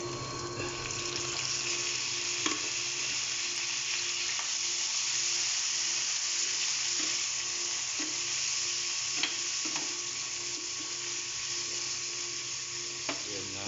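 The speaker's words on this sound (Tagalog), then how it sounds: "Lagyan na natin ng atay." Chicken liver fries in a pan with a loud, steady sizzle that runs throughout, broken by a few faint clicks of stirring.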